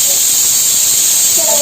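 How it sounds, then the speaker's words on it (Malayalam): Pressure cooker releasing steam in a home kitchen during festival cooking, a loud steady high hiss that fills the whole moment without break. "കുക്കർ ഒഴിച്ചിട്ട് മത്സരിച്ച് അടിക്കുന്നുണ്ട് കേട്ടോ"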